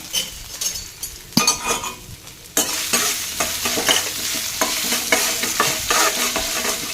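Stirring and sautéing in a frying pan while making coconut rice: a spoon scrapes and clinks against the pan over a sizzle that jumps louder partway through and then keeps crackling close up.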